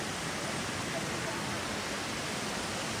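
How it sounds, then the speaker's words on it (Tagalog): A small waterfall on a little river pours steadily, a dense, even roar of falling water filling the whole stretch without pause, close and constant. "Ayan, may falls"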